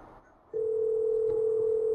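A steady telephone dial tone starts abruptly and holds unbroken to the end over faint background hiss, heard on a recorded 911 call placed from a 7-Eleven.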